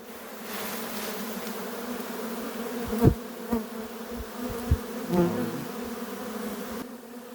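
Honeybees swarm and buzz thickly over an open hive frame during nest assembly, a steady close drone with a few louder passes and small knocks of handling.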